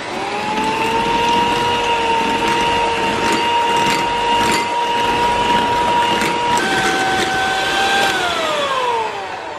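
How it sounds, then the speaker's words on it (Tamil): An electric mixer beats butter, sugar and eggs for a zebra cake batter with a loud, continuous whirring whine that shifts pitch near the end, close and unbroken. "இப்போ வந்து எக்கை வந்து கொஞ்சம் கொஞ்சமாக ஆட் பண்ணி பீட் பண்ணிடலாம்"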